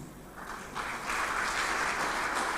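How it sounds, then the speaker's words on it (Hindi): Audience applause at a national conference on accessible elections, a broad wash of clapping that swells after the first second and holds steady and loud through the end. "बहुत सारी तालियां आप लोगों ने बजाई, हमें बहुत अच्छा लगा"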